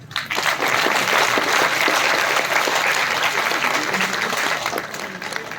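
Steady audience applause at a school event at a senior secondary school in Chhota Shimla, dense and sustained for several seconds, then tapering slightly toward the end with no clear voices.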